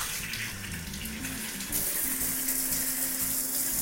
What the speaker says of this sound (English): So we're going to turn the water on now.